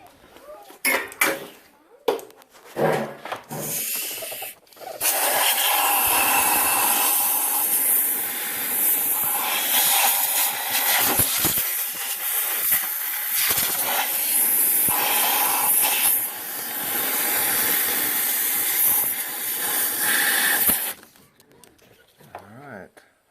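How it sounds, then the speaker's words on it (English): A compressed air sprayer blows out the spark plug wells of a 2001 Ford F150 5.4L engine in a long, loud, continuous hiss after a few short metallic clanks and bursts, then cuts off near the end. "I'm going to take the air sprayer and spray them all out real good."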